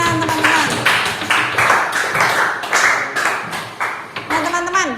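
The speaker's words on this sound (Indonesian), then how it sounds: "Oke, beri tepuk tangan teman-teman." Several rounds of clapping in short bursts, loud and near, mixed with some indistinct voices, as a group applauds in a classroom.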